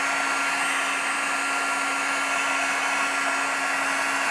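A heat tool blows steadily over black embossing powder during floral wet stamping, giving a constant loud whir with a fixed hum and no talk.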